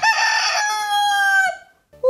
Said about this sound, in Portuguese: É o canto do galo.